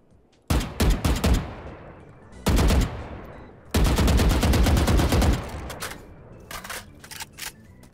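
Vandal rifle firing in the video game Valorant, heard alone in sharp rapid bursts: a quick string of shots, a short burst, then a longer sustained spray and a few final shots.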